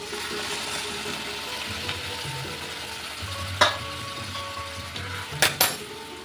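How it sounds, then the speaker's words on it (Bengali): A curry for an eggless, papad-free omelette sizzles and fries in a pan, a steady close crackle with scraping stirs and a few sharp metallic clinks of a spoon against the pan. "এবার আরেকটু কষিয়ে নেব খুব ভালো করে ভাজা ভাজা হয়ে গেছে"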